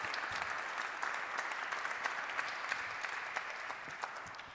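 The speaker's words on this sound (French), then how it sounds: "Oui, on peut les applaudir." An audience at an evening round-table conference in a Paris church hall claps for the speakers, a sustained even applause heard from within the room at moderate volume.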